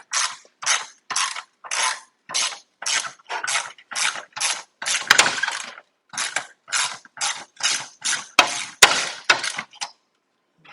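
Rapid bursts of ratchet clicking as a bolt is backed out on the grille of a 2006 Ford Explorer, about twenty short, evenly spaced strokes, close and loud, with no talking.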